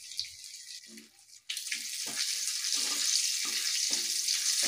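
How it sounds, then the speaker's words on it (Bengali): Halved dried red chilli and whole cumin frying in hot oil for a village-style Bengali lau shak with prawns, a steady hiss that turns louder after a brief drop, with some faint clinks. "ঠিক এইভাবে কিন্তু কয়েক মিনিট ফোড়নটাকে ভেজে নিতে হবে।"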